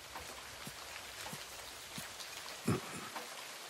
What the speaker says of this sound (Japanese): 雨か。